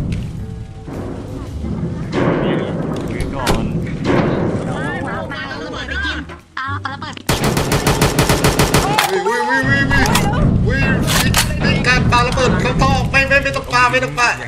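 Gunfire in a VRChat prison-escape game comes in loud rapid bursts and scattered single shots, growing into a dense, sustained volley in the second half, mixed with voices and game noise.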